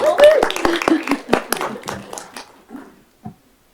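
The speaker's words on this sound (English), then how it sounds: "Let's clap for them" A small group of board meeting attendees claps, a brief round of separate close handclaps that thins out into a few last claps and fades to silence.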